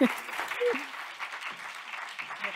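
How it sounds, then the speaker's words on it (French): Audience applause at a talk on healthy lifestyles, a moderate round of clapping with voices briefly heard over it. "Je vous demanderai d'accompagner, d'accompagner, oui, et d'applaudir Paul Bernier."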